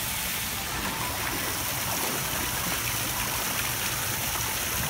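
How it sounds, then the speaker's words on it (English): A waterfall spilling into a sandy-edged lagoon-style pool makes a steady, even rushing hiss, continuous and fairly close, with no talking over it. "And there's a waterfall."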